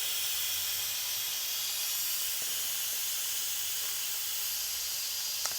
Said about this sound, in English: there's a lot of steam coming out